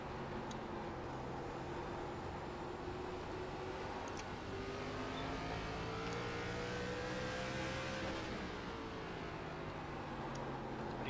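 Race car engines drone and rise in pitch in the iRacing ARCA Menards Series sim at Thompson Speedway, a steady loud roar with shifting revs as cars run together, no talking.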